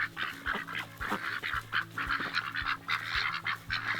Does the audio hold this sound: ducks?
yes